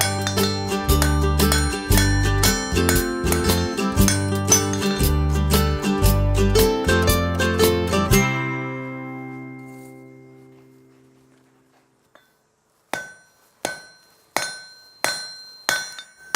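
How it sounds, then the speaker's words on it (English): A hammer rings steadily planishing steel on an anvil in a fast rhythmic run, the clangs fading into a decaying ring, then five sharp, evenly spaced strikes follow after a pause. "planishing, just smoothing steel,"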